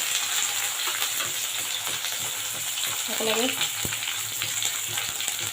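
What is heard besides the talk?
frying onion, dried chili and bay leaf together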